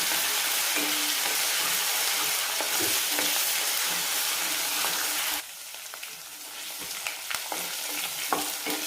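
Ginger-garlic paste sautéing in hot oil in a pan for a Marathwada-style mutton curry, a dense continuous sizzle with occasional stirring clicks that drops suddenly to a softer crackle partway through, close with no talking.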